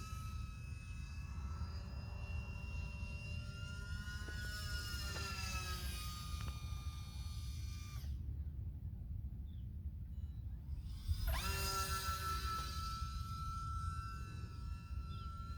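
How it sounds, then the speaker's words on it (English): Small brushless electric motors on an OMP Hobby S720 sport RC plane buzz overhead in flight, a faint high-pitched whine that rises and falls in pitch as the aircraft passes, fading out briefly before returning. "the little brushless motors on these things are awesome"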